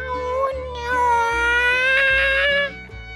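A storyteller's voice imitates a cat's meow in one long, drawn-out, wavering cry with strong harmonics, clear and close, held for about three seconds before trailing off.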